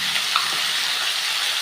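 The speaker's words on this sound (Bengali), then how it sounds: "আমি কিন্তু পরিমাণ মতো একটু লবণ আর হলুদ দিয়ে এবারে ভাজবো।" Green banana and eggplant pieces fry in hot oil with salt and turmeric, giving a loud, dense, close sizzling hiss that holds steady through a brief moment.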